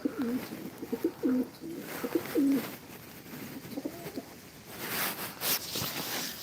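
Pigeons or doves cooing close by, a series of soft, low, rolling coos in short bursts, followed by a brief wingy rustle and scattered background noise.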